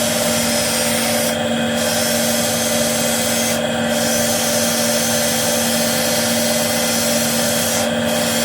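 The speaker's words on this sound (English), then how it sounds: "you get a very much better finish doing multiple new sanding papers" A small elm bowl is sanded on a lathe, giving a steady, close, continuous rubbing hiss over a constant motor hum, with brief pauses at regular intervals and no talk.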